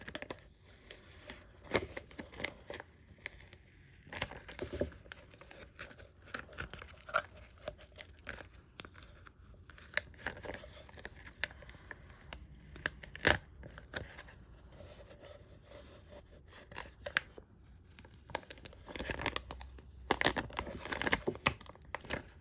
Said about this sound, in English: Just slowly begin to peel